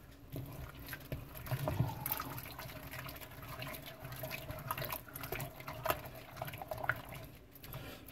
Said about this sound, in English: I'm adding your water a little bit at a time